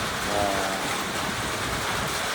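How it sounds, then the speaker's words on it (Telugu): Heavy rain pours outside a house in Goa, a dense, steady hiss of rainfall filling the whole stretch without a break, close and fairly loud, with no voices. "హెవీ వాన పడుతుంది బయట."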